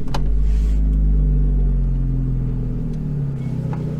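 A Mk2 Seat Leon FR engine idling on a cold start right up close, with a deep steady low rumble and a steady hum that stays even throughout.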